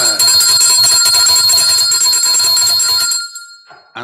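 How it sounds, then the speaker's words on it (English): A bell rung in celebration of a song rings out loud and bright with a steady, sustained metallic shimmer, then cuts off sharply and leaves near silence. "we must ring the bell for such a beautiful song"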